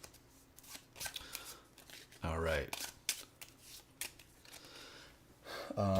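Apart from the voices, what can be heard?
shuffling cards for Dark Souls board game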